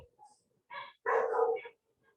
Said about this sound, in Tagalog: Tingin ng mga aso namin.